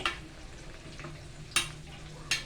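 Curry leaves and young guava leaves simmer in hair oil over a low gas flame, giving a faint steady bubbling hiss broken by a few soft crackling pops.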